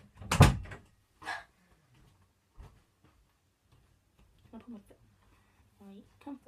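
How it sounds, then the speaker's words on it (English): A door shut indoors, with a sharp loud thud at the start followed by a softer knock, then quiet room tone and brief bits of speech. "I'm just gonna shut the door again."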